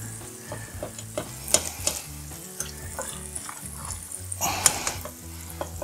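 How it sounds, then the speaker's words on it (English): A plastic spoon stirs mac and cheese in a pot, giving irregular scrapes and clacks over a soft background sizzle, with a denser burst of stirring toward the end. "Let's make sure everybody can see and give that a stir."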